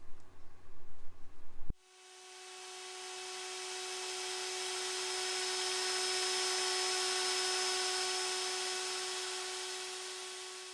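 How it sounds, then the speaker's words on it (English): A router cuts a curve along a template in a wooden panel, starting abruptly after a brief clatter and then holding a steady, high-pitched whine with a strong hum tone that swells gently and stays constant until the end. "I will template route the curve"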